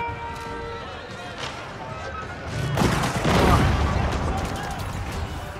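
Gunfire and artillery in an Age of Empires 4 battle: scattered distant shots and booms grow into a dense crackling volley midway. Loud and sustained, with a voice talking over part of it.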